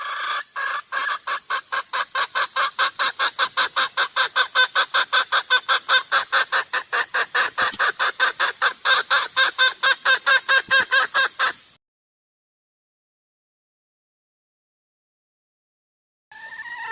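Chickens and a rooster cluck in a fast, regular run of loud, close calls, broken by a couple of sharp high squawks, then a few seconds of silence before the clucking starts again.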